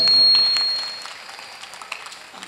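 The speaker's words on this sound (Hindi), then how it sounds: "अरे एक बार जोरदार ताली बजा दो भाई" Audience clapping at a Hindi comedy poetry gathering, a brief loud burst that quickly fades into scattered thin claps and faint murmurs.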